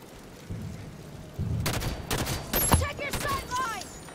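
Gunfire in Halo 5: Guardians on the Escape campaign mission, a few sharp clustered shot bursts after a quiet start, mid-distance, followed by ricochet-like whines, with faint voices underneath.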